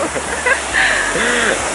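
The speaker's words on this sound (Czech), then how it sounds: "Máme tu přímo ten vodopád, ke kterému jsme šli." A small waterfall in New Zealand's wilderness, reached along a Maori trail, pours as a steady close rushing wash of water while people talk over it.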